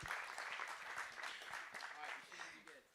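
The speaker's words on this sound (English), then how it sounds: "let's give him a round of applause as well" A meetup audience at a product management talk gives a round of applause: quiet, steady clapping from a small crowd at some distance, lasting the full few seconds, with a voice talking over it.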